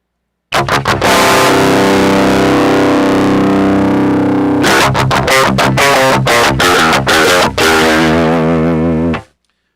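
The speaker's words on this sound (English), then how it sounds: "we're just trying to see what kind of workable tones we can get out of the amplifier simulation" Heavily distorted electric guitar through a Line 6 HX Stomp amp model with a metal tone: a long sustained power chord, then a run of tight, palm-muted chugs and stabs, loud and close, ending abruptly.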